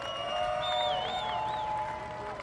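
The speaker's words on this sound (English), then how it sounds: "Give yourself a big round of applause." A crowd at a championship parade for the 2009 Los Angeles Lakers applauds and cheers from a distance, a steady wash of clapping with whistles and tonal noises above it.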